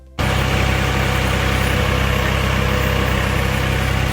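A heavy tractor engine idles close by, a loud, steady rumble that kicks in after a brief quiet start and holds without any talking.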